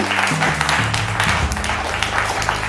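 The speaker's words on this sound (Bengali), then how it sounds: "হাততালি।" Applause from an audience for a team at a family quiz event in a jewellery store in Rampurhat, a dense, steady patter of many hands lasting throughout, with music and some voices underneath.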